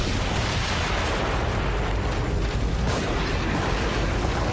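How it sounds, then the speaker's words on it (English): Grenades going off in The Evil Within during a boss fight: a loud, continuous roar of blasts and rumbling debris that fills the whole stretch, with no clear gaps between detonations. "throw the grenades"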